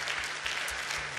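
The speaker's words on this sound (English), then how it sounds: "And you can applaud for that as well." A church congregation breaks into a short burst of applause, a brief, moderately loud patter of many hands clapping together.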